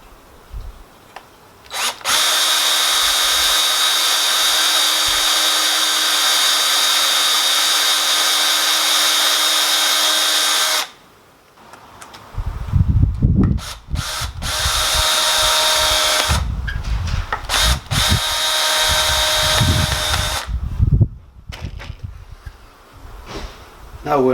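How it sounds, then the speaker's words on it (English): A power drill whines steadily for several seconds, drilling pilot holes in pallet wood, then runs again in shorter bursts with knocking, handling clatter and pauses between them. "we're going to get a drill pilot holes, then put our screws in"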